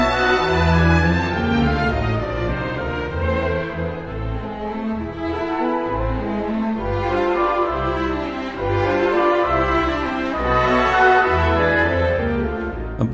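A symphony orchestra plays a Brahms serenade, a dense, sustained orchestral passage with a warm low register and steady moderate level throughout, no voices heard.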